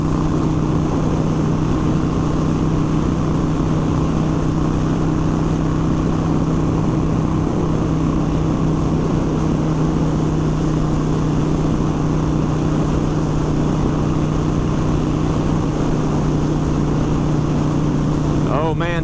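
A Harley-Davidson Sportster 1200 (XL1200C) motorcycle engine runs at high RPM on the interstate, a steady loud droning hum mixed with wind rush, continuous and unchanging throughout.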